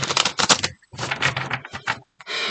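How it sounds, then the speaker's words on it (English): Oversized tarot cards being shuffled by hand in quick, rustling, papery bursts with brief pauses between riffles, close and fairly loud. "these cards are so big, they're so hard to shuffle"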